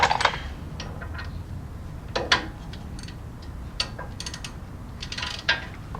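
A hand ratchet with a 19mm socket loosens the upper ball joint nut on a fourth-generation Toyota 4Runner, giving scattered bursts of quick clicking pawl sounds with pauses between strokes, close up and without talk.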